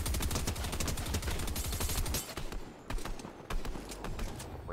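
Rapid gunfire in a video game, aimed at a shark, rattles in dense, loud bursts that ease into scattered shots midway through.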